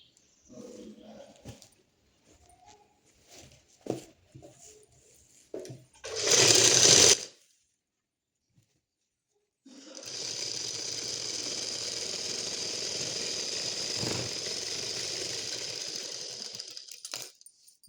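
A sewing machine stitches folded dress fabric, running in one steady continuous whir for several seconds after a short earlier burst, with quiet handling sounds between.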